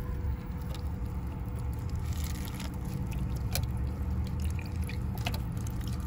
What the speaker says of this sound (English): I'm gonna just rinse my strawberries out, put them on my plate